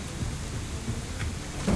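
Steady rain hiss with a low rumble of distant thunder underneath in the game Stoneshard, fairly quiet and continuous, with a slight swell near the end.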